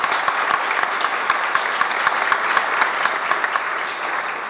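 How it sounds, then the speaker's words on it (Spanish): An audience at a human rights congress panel applauds, a steady wash of many hands clapping with some individual claps standing out, loud and sustained throughout. "Un aplauso."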